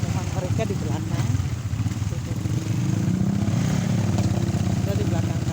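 Motorcycle engine droning steadily while riding on a trip to Kampung Klasuat in Sorong, a continuous close rumble with people talking over it.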